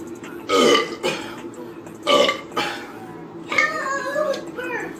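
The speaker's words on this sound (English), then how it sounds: "Now, if this was a burping challenge, I would have won." Loud, close male burps, three drawn-out croaking bursts spread over a few seconds with short pauses between them.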